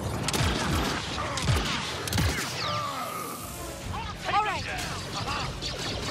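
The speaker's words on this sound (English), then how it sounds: "I was just shooting at pipes" Gunfire aimed at pipes in Star Wars Outlaws, a series of sharp shots and metallic impacts, fairly loud and irregular, with a voice talking over parts of it.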